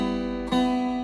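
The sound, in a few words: guitar picking accidentally touching another string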